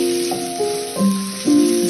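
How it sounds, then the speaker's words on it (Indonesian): Ground spice paste sizzles as it is sautéed in a pan for mangut ikan manyung, a steady close frying hiss with a few soft stirring shifts and no talk. "Tumis bumbu halusnya dulu."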